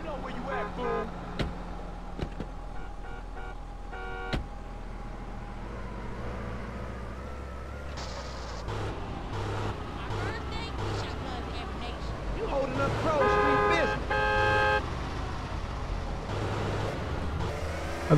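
A car driven gently through the streets in GTA San Andreas gives a steady engine drone with traffic noise, a few honks and horn tones, while someone talks over it throughout.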